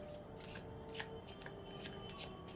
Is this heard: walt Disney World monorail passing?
no